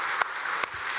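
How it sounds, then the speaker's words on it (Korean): Applause from a Sunday church congregation, a continuous wash of clapping with a couple of sharper claps standing out, fairly faint and distant. "우리 힘차게 박수 한번 하도록 하겠습니다"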